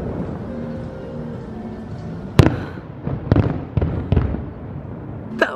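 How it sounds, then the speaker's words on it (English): Distant booms and cracks of fireworks over Magic Kingdom during a test, a handful of sharp bursts in quick succession over a low outdoor rumble. "That was a whole bank of them going off at once."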